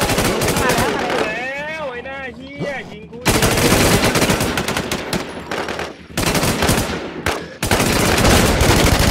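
Heavy gunfire in the video game Infestation, loud rapid bursts of automatic fire crackling in dense volleys, broken by brief pauses, with a voice shouting over the opening seconds.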